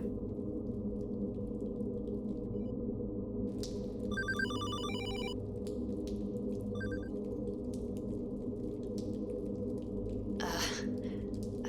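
A telephone rings in the survival horror video game Hollowbody, two bursts of bright ringing over a steady low drone of ambient game music, followed by a short breathy noise.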